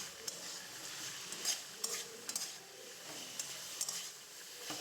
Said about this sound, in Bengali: এরপর ভেজে রাখা সিমগুলো এই মশলার মধ্যে দিয়ে বেশ কিছু সময় নাড়াচাড়া করে মশলাগুলোর সঙ্গে সিমগুলোকে মিশিয়ে নেব।